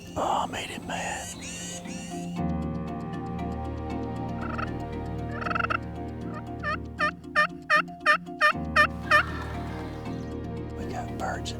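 A wild turkey tom gobbles on a Washington County hunt, with several quick, rattling gobbles and calls ringing out at moderate distance, and people whispering quietly nearby.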